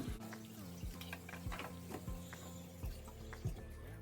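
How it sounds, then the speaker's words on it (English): Fragrance oil pours and trickles steadily into melted candle wax in a container, with soft splashing and faint clinks throughout. "Pour in the entire thing of fragrance."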